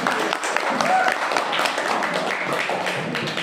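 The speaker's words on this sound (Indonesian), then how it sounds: "berikan tepuk tangan untuk teman kalian" A classroom of students applauds classmates after their group presentation, a dense steady patter of many hands mixed with voices, lasting the whole moment at even loudness.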